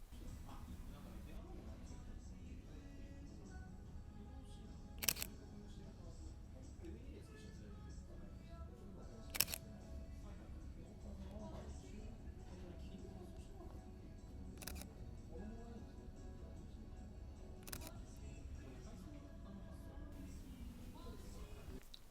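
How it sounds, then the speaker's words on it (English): Leica M10 and M10-P rangefinder shutters fire one at a time, about five or six crisp clicks spread across the stretch. A couple of them stand out louder and the rest are quieter. A person talks quietly underneath throughout. "the Leica 10 M10P shutter sound is a lot more quiet than the Leica M10 shutter sound"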